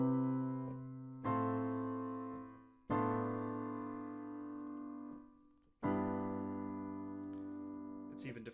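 Four rich piano chords from a sequence of seventh chord inversions are struck one after another, each left ringing and slowly fading before the next lands.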